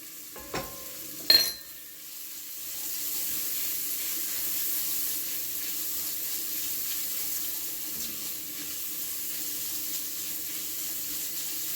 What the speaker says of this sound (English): I'm going to stir this and all the yummies that are in the bottom. I'm going to just scrape it, all of it.